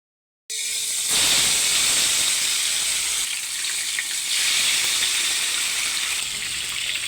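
Loud, steady sizzling of cornstarch-coated chicken thighs frying in hot oil starts abruptly and crackles continuously, with a brief surge partway through.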